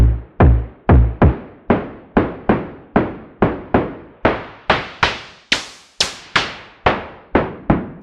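Synthesized kick drum from a ModBap Trinity module with FM grit added, a steady sequence of about sixteen punchy hits that grow noisier and brighter as the grit increases, with no voices.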